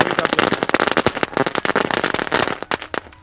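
A string of firecrackers set off beside a bus stop bursts in a loud, rapid, dense chain of sharp cracks and pops, continuous for several seconds before thinning out near the end.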